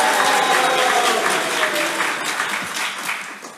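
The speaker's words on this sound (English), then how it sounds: "I would like you to whoop and cheer and go crazy now" A conference crowd cheers and applauds loudly, a dense roar of clapping and whooping voices that stays strong throughout and eases slightly at the end.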